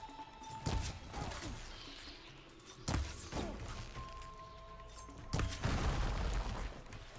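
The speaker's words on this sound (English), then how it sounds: "Don't know what that explosion was." Several heavy booming blasts and crashing impacts in Horizon Forbidden West, spaced a couple of seconds apart over continuous game ambience, with sharp onsets fading into rumbling debris.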